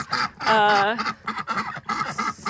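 Ducks quack at a farm duck pond beside a chicken coop, a close run of nasal calls with one longer loud quack, while a person talks over them.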